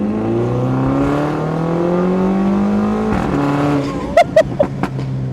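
A loud, track-modified Mini Cooper engine drones and revs steadily, then a few sharp exhaust pops and blips punctuate the roar near the end.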